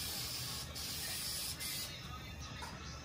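Aerosol spray paint hisses steadily onto a car bumper during a paint match on a G37, a continuous close broadband spray with a couple of brief pauses and no talking.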